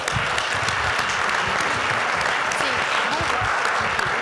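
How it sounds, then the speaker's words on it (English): Audience applause at a conference session on statewide transfer initiatives, a dense, steady wash of many hands clapping that holds at an even level for the whole stretch. "Let's give them another round of applause"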